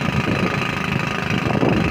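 Small LPG-fuelled engine with a home-built carburetor driving a bore well water pump in a dry field, running steadily and loud at close range with an even, continuous drone.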